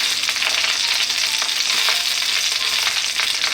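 Sausages frying gently in a pan on low heat, giving a steady, even sizzle and crackle that runs throughout with no voices.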